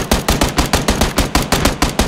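Rapid automatic gunfire in a video game, a steady run of sharp, loud shots about every eighth of a second across the whole stretch, with no voices over it.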